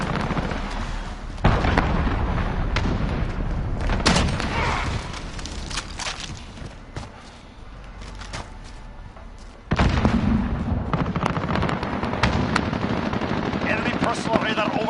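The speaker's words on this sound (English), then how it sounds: "Enemy cruise missile." Call of Duty gameplay with loud, continuous gunfire and explosions, including cruise missile blasts, booming sharply around 1.5 and 10 seconds amid dense battle noise, with game announcer voices over the top.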